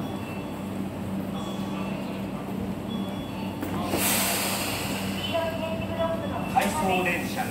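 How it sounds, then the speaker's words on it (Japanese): A Tobu 20400 series out-of-service train pulls away from Minami-Kurihashi station with a low, steady rumble, a burst of hissing air partway through, and a station announcement playing over it. "回送電車が発車します。"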